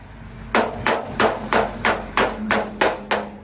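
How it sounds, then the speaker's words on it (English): A nylon mallet hammering an inward crease out of a damaged front body panel on a Toyota TE72 drift car, eight sharp, evenly spaced blows close by with no talking. "I'm try to work it out with my nylon mallet."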